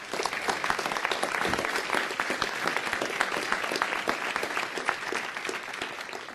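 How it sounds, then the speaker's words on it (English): A crowd applauds steadily and fairly loudly for an Action Team Award at a Las Vegas city council meeting, with dense clapping that holds for several seconds. "Please give them a nice round of applause."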